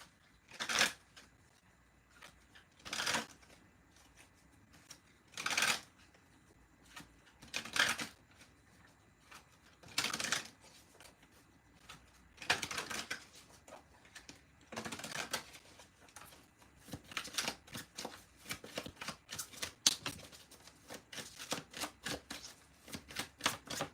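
Tarot cards are shuffled by hand close up, starting as a series of separate riffling bursts every couple of seconds and growing into quicker, denser riffles and taps toward the end, with no talking.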